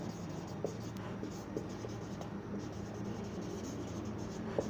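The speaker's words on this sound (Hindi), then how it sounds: "तो हम लिखेंगे वेरियस फार्मूला" Formulas are written on a lecture board, a faint steady scratching and tapping of chalk or marker strokes over a constant room hum, with no speech.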